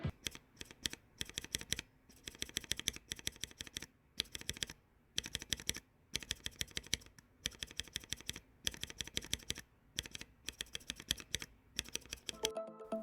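Rapid close typing on a mechanical keyboard with Cherry Red non-clicky linear switches, a dense stream of soft clacks in bursts separated by short pauses, quiet and alone.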